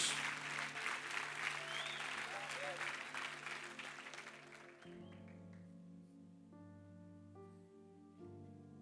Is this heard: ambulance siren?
no